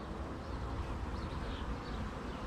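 Agitated bees hum in a dense, constant buzz around a mating nuc box, close and steady with no voices.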